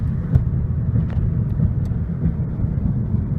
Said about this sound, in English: I love that turbo spool sound.